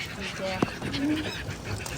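Migratory birds honk at a riverside ghat in a couple of brief goose-like calls, mid-distance, set against steady outdoor background noise.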